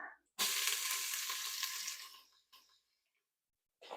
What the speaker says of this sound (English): These are going to cook until they're softened and the onions are a little bit brown.